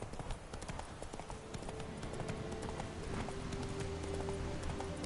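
A horse gallops in The Witcher video game, its hooves clip-clopping in a fast, steady rhythm under game sounds and background music.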